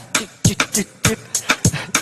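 Short, crisp percussive hits layer a four-against-three polyrhythm, with bright hi-hat ticks and lower thumps forming an uneven, repeating pattern.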